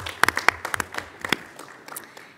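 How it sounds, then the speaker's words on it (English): A brief burst of scattered clapping from a small group at a school board meeting, sharp claps at first that thin out and fade within a couple of seconds. "Round of applause for that."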